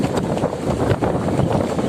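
Strong wind by the sea over rocky ground buffets the microphone in loud, gusty rumbles that rise and fall, with no talking.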